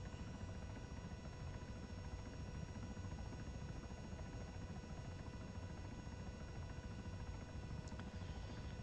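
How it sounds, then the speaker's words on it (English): A CH-67 Huron helicopter hovers in the ARMA 3 video game. Its rotor and turbine drone is steady and continuous for the whole stretch, with a constant mechanical hum and no voices. "So to hold a hover in this helicopter"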